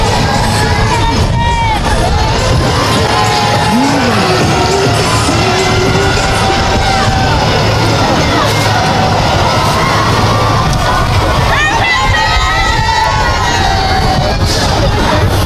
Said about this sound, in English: Maybe we'll get another cheer from them.